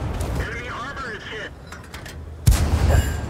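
A tank cannon fires once in the World of Tanks video game, a loud sudden blast with a rumbling tail about two-thirds of the way through, following quieter game noise and faint chatter.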